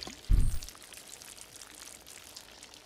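Water is poured onto the ground in the video game Project Zomboid, a short soft splash lasting about half a second, then quiet background hiss.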